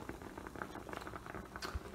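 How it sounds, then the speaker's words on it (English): Water bubbles and patters steadily in a pot holding spinach and tilapia, a quiet continuous boil with soft popping and no voices. "It's boiling right now."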